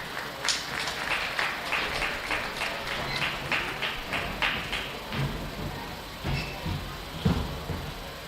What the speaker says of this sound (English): let's send them out with that nice round of applause